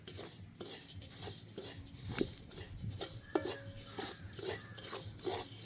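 Food roasting in a pan while being stirred in a village kitchen: steady scraping and rubbing strokes with soft clinks of the utensil, moderately quiet and continuous, with no talking.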